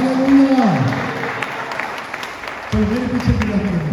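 A congregation at a Hindi-language church service claps loudly in praise of the Lord, steady applause running beneath a preacher's voice that speaks at the start and again toward the end.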